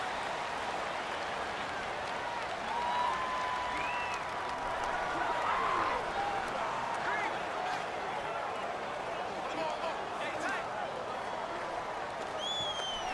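A stadium crowd in the Madden 19 football game during a Houston Texans vs Tennessee Titans matchup, a steady wash of cheering and noise behind a commentator's voice.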